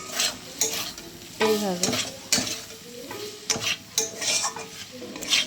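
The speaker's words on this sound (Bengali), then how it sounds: "এবার দিয়ে মশলাটাকে আর একবার ভালোভাবে নেড়ে চেড়ে নেব।" A spoon scrapes and knocks in a pan as masala with Kashmiri chilli powder and potatoes is stirred over a soft sizzle, in irregular bursts, while a voice speaks briefly.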